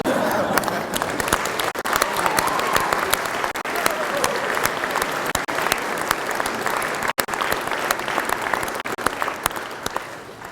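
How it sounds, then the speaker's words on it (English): A standing high school graduating class at a commencement ceremony gives sustained, dense applause, a loud continuous roar of many hands that holds steady throughout. "the class will stand and applause to thank you"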